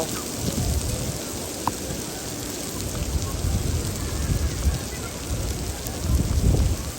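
Steady rain falls in Medina in a broad hiss with low rumbling underneath, constant throughout with a slight swell near the end.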